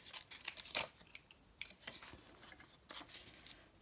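Scissors snip through paper while photo pockets are made, several quiet crisp cuts in irregular succession, close and faint with no talking.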